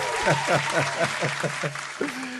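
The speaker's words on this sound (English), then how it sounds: "Applause for that." Audience applause rolls on steadily after a song at an amateur performance program while someone speaks over the clapping.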